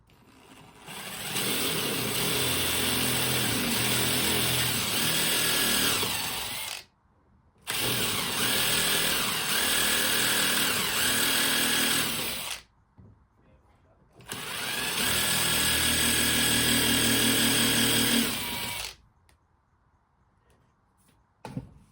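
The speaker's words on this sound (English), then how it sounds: "And yes, MDF, you have to pre-drill it." Three long bursts of a power drill whirring steadily as it pre-drills into MDF board, each several seconds, separated by short pauses of near silence.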